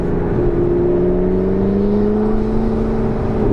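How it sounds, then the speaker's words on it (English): A McLaren 650S Spider accelerates with its turbo whirring, a rising whine layered over the engine's drone, steady and close from inside the car. "The turbo is just whirring up."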